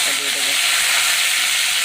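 Onion hitting hot oil already popping with mustard seeds, for a wheat daliya vegetable upma, gives a steady, close, loud sizzle and hiss that holds evenly throughout.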